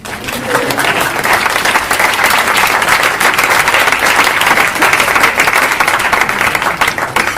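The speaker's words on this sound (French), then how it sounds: "Si vous voulez les applaudir, faites-le." Sustained audience applause at an arts-in-healthcare talk, dense and steady clapping from a large crowd throughout, loud and close with no speech over it.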